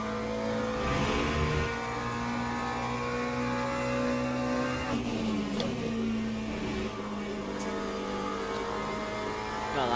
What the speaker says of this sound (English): as the Alpine passes us